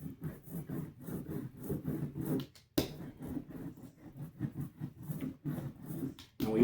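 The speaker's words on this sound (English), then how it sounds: "with our brayer, if I think I've got too much ink, what I'm going to do is I'm going to try to get some of that excess off" Rubber ink brayer rolled back and forth over an inking surface during linocut printing: repeated soft, tacky rolling strokes in a steady rhythm, close by, with a brief sharp click partway through.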